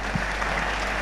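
Audience applause at an Islamic religious lecture, a thick, continuous wash of many hands clapping, loud and even from start to finish, with no pauses or standout claps.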